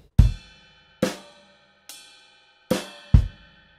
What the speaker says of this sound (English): So you're hearing that really high-pitched pingy sound for this groove